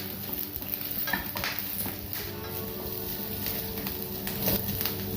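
Garlic, ginger, green chillies and curry leaves frying in a pan for restaurant-style chicken 65, a steady close sizzle with stirring scrapes and light clinks of utensil against pan, no talking.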